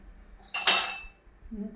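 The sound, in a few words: frying pan placed on stove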